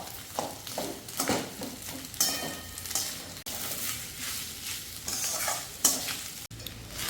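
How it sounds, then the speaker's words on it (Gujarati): A spoon scrapes and stirs saffron rice with sugar and raisins in a hot pan, giving repeated rhythmic scraping strokes over a soft sizzle, close up with no voices. "પછી આપણે મિક્સ કરવાનું છે."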